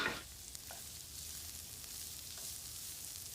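Garlic stirred and sizzling in a pan, a soft steady hiss with a scrape at the start and faint clicks of utensils, quiet throughout.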